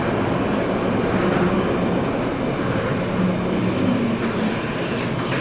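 Airport people-mover train riding toward a station, a loud steady rumble and rolling drone of the car on its guideway, with no voices.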